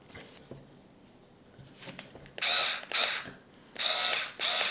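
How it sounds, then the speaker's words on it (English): A Parkside PAS 4 D7 cordless screwdriver drives screws into wood in four loud close whirring bursts after a stretch of faint handling clicks, each burst lasting about half a second. "Wood, some screws. I will start from the smaller."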